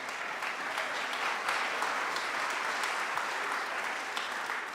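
Town hall audience in St. Petersburg applauding, a dense steady wash of clapping from many hands held throughout at even loudness.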